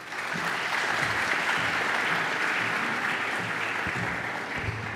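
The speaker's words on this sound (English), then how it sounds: "Haven't had a clap in a while." An audience at a university study abroad and exchange orientation applauds a speaker's introduction, a full, sustained round of clapping from many people that swells and holds before tapering slightly at the end.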